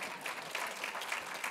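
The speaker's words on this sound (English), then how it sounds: "You can clap." Audience applause in a lecture hall during a spiritual discourse, a fairly faint but continuous patter of many hands clapping, with slight swells.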